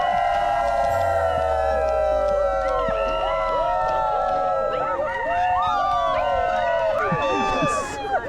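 Wedding guests cheer and whoop together for a kiss photo, a loud, sustained chorus of many overlapping voices rising and falling for about eight seconds.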